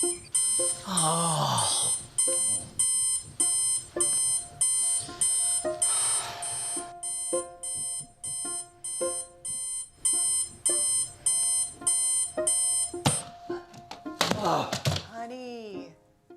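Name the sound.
alarm clock ringing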